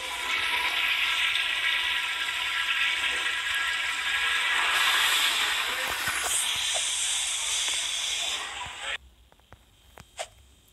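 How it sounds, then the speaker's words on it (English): A vintage-style toilet in a Roblox Kmart back restroom flushes with a long, loud rushing hiss of water that holds steady for about nine seconds, then drops away sharply to a faint trickle with a few small clicks. "flush it one more time."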